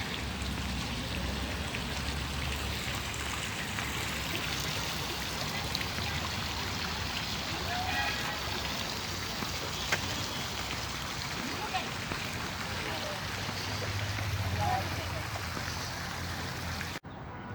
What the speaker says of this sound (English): So fortunately these fountains are still working, and it is really nice to see the ones that are still operating.